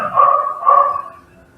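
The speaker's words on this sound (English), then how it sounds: "Is that your dog barking?" A dog gives two close, loud barks in quick succession, then goes quiet.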